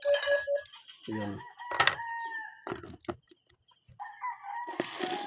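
A rooster crows loudly and close in the early morning, its call rising and breaking, with clucking and other bird and background noises around it.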